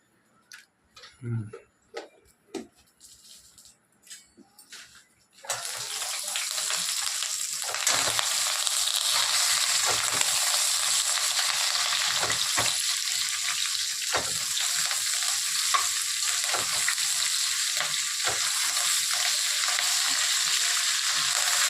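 Curry leaves and dried red chillies frying in a pan, quiet clicks and taps for a few seconds, then a sudden loud, steady sizzle that continues to the end.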